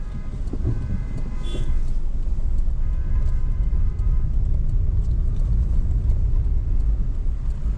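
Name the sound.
road traffic at mountain pass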